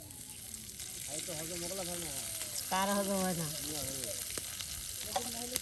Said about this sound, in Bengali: শুকনা মরিচ দিয়ে কিন্তু আপনার কচুর ডাটা বর্তা করা হবে তার সাথে পেঁয়াজ কুচি একসাথে দিয়ে কিন্তু এখন তেলে ভেজে নেওয়া হবে